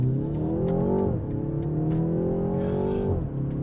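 A 2022 BMW 330i engine in Sport mode pulls hard under acceleration, its harmonic drone rising in pitch and then dropping sharply at a quick gear shift, twice, heard from inside the car.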